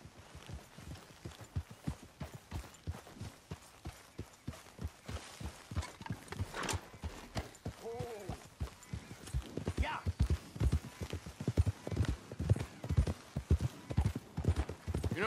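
Horse hooves clip-clop steadily on the ground in the video game Red Dead Redemption 2, a brisk, regular gait heard up close for the whole stretch, with a brief snort or whinny partway through.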